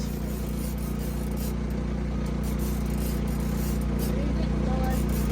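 A generator hums steadily aboard a Ranger Tug R27 boat on the water in winter, a constant low droning tone running under people talking throughout.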